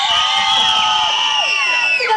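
An outdoor crowd at a live event screams and cheers loudly in a single sustained burst of high-pitched shrieks and whoops, close and dense, lasting about two seconds.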